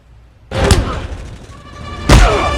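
Two loud, booming movie gunshots about a second and a half apart, each with a ringing, echoing tail.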